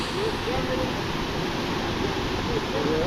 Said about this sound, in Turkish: Burası küçük şelale.